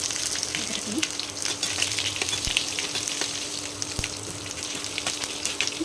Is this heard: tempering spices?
yes